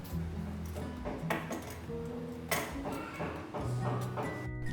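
Decorative crockery clinks and knocks as it is set into a kitchen cabinet, a few scattered sharp contacts of ceramic and glass at close range.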